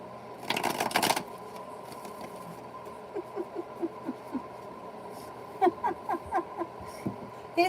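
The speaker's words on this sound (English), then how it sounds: "I shuffle the cards." Tarot cards being shuffled: one dense riffle-like burst at the start, followed by a run of evenly spaced, crisp card taps and flicks, close and moderately loud with no voices.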